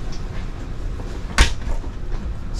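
An LG Signature refrigerator door in a Foretravel 2024 Realm Presidential motorcoach swings open with a single short thump and rustle against a steady background hum.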